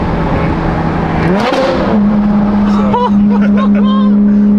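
A BMW M4 engine with a built motor revving on a downshift: a steady drone, then a quick rising blip, and the engine settles into a higher, louder hum, with a voice briefly audible.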